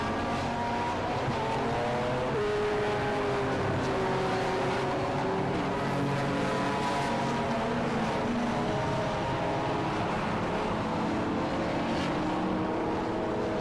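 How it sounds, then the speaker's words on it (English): Several classic racing cars, including a Reliant Scimitar, circle a BARC race circuit under power, their engines droning and shifting pitch as they pass, a steady loud multi-engine roar without talking. "listen to the incredible sound of these beautiful cars"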